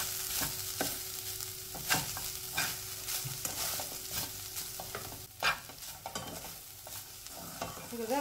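Grated fresh coconut fries in ghee over medium heat for modak, with a continuous soft sizzle broken by repeated scraping strokes of a stirring spoon at an uneven rhythm, close by and without speech.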